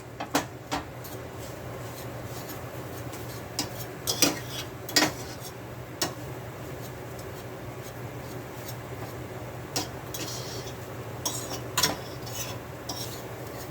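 Metal utensil scraping and clanking in a pan while leftover rice with sausage is stirred and fried, with irregular sharp taps and scrapes over a steady low background hum, no voices.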